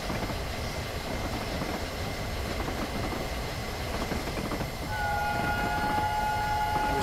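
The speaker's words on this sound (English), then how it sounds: "Whistle into the tunnel." A Flying Scotsman steam locomotive whistle in a train video game sounds at a tunnel entrance, a steady high tone rising over the continuous rumble of the moving train.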